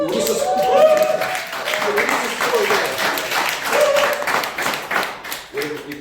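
An audience at a network marketing success academy claps loudly and steadily throughout, with voices and a few tonal sounds mixed in among the dense applause.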